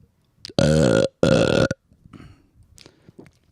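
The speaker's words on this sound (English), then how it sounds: "I'm trying to get one more belch for everybody" Two long, loud belches from a man on a podcast, back to back, followed by faint mumbling and quiet shuffling.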